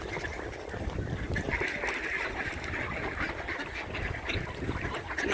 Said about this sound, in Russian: Желающих покормить уток здесь, к счастью, много.